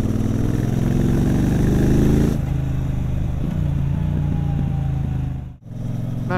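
2022 Triumph Bobber Goldline Edition engine while riding on the motorway, a steady loud thrumming that shifts as the throttle eases, with a brief dip near the end.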